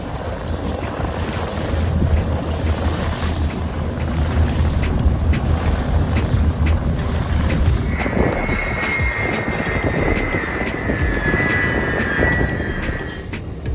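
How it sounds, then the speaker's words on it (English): Airplanes from America's top pilots fly an air show preview over Key Biscayne, a loud, sustained engine roar with heavy wind buffeting, shifting to a rising, whining pass in the second half. "we are privileged to observe a captivating preview of America's most skilled pilots, demonstrating their outstanding aerial expertise"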